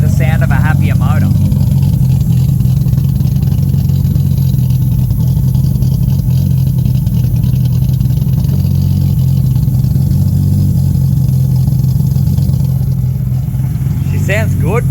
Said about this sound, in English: It's kind of quieter, which is generally the sound of a happier motor.